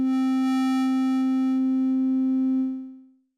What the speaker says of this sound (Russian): Здесь ручкой Wave мы можем менять опять различные типы волн.